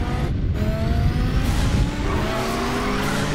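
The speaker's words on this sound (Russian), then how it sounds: "Звук машины." A car engine hums steadily in Batman: The Telltale Series, a loud, continuous low drone that sounds close and has no talk over it.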